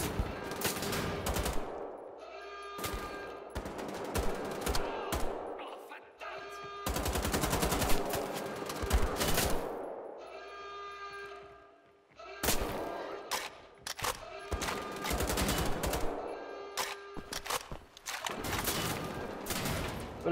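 Gunfire in the video game Wolfenstein The Old Blood, with dense bursts of rapid shots and single blasts coming in clusters across the stretch, loud and close.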